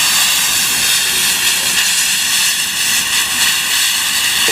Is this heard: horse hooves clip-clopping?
no